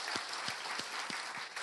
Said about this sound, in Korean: 우리 다시 한번 하나님께 영광과 박수를 드리겠습니다.